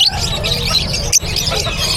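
Caged birds chirping at the Bocaue pet bird market, with bright, high twittering calls repeating steadily over a dense, continuous market hubbub.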